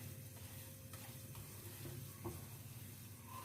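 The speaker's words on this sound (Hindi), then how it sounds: "सूजी को हम 2 मिनट के लिए और भून लेते हैं।" Semolina dry-roasting in a pan for suji halwa, a soft steady rustle with faint sizzling and occasional scrape of the spoon as it is stirred, quiet and continuous throughout.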